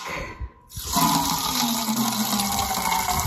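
Water pours steadily from a tank tap into a container at a rural village, a brief clunk followed by a continuous close gushing stream.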